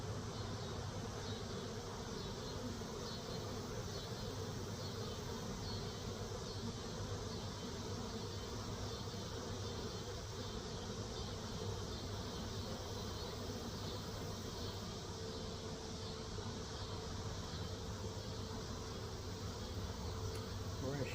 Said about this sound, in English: We're going to shake these bees in there.